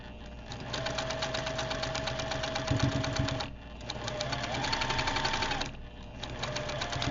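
A sewing machine runs in rapid bursts while stitching spinning seams, its fast, even mechanical chatter pausing briefly twice before starting up again, close and clear with no talking.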